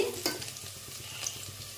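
Onions sauté in a pan until browned for a meat curry, a close steady sizzle with a light rhythmic stirring scrape throughout, no voices.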